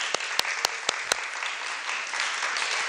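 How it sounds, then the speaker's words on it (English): Audience applause, a steady patter of many hands clapping with a few sharp, close claps standing out, sustained throughout without talk. "Let's give her a round of applause."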